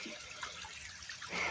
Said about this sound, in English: the water's running now at the waterfall